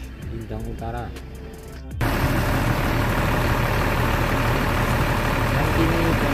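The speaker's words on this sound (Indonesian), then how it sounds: "Dan kini bus Makmur sudah berangkat ke Medan." A Makmur intercity night bus bound for Medan idles at a roadside restaurant stop; a voice talks briefly first, then a loud, steady diesel rumble takes over.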